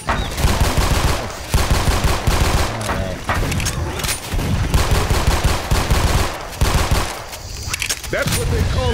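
Glock 19 pistol fire in Left 4 Dead 2, with repeated loud bursts of rapid shots in clusters and brief gaps between volleys, mixed with game noise and faint voices.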